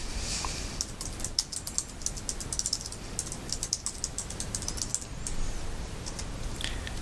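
Steady typing on a computer keyboard into a terminal window, a close, continuous patter of quick key clicks with short pauses and no voices.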